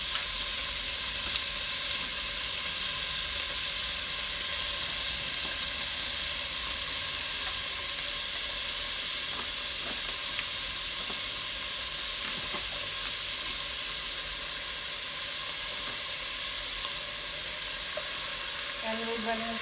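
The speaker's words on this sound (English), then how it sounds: "I'm just going to add my bacon to the pot to saute up" Bacon sautés in a pot for carbonara pasta, giving a continuous, dense sizzle and hiss with a few faint stirring clicks.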